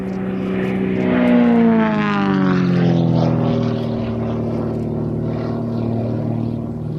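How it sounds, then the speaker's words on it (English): An Extra 330SC aerobatic plane with a 315 hp Lycoming engine roars loudly overhead, its propeller drone sliding down in pitch as it passes and then holding a steady, powerful buzz. "that 315 horsepower coming out of the Lycoming engine in the nose"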